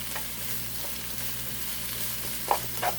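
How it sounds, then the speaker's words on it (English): Onions sauté in a pan with a steady, soft sizzle beneath a low hum, broken near the end by a couple of sharp stirring clinks close by. "Let me let it saute or cook up for a couple more minutes"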